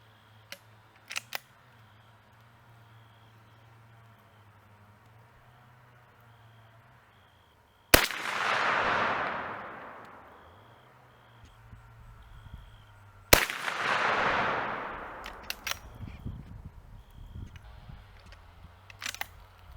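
Two loud .44 Magnum gunshots fired with high-velocity brush cartridges ring out about five seconds apart, each a sharp crack followed by a long rolling outdoor echo, with faint clicks before the first.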